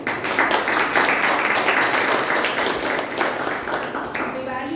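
An audience at a Toastmasters meeting claps steadily to welcome a speaker, a dense sustained patter of many hands at moderate distance.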